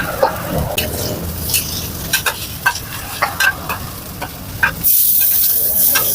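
Pad thai frying on a hot pan at a Thai street food stall selling fried mussels and seafood pad thai, a steady sizzle broken by sharp metallic spatula scrapes and clinks, with a louder burst of hiss near the end.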